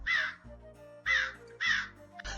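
A crow caws three times in a children's story about a thirsty crow searching for water, loud harsh calls spaced evenly with short pauses and a low tonal background between them.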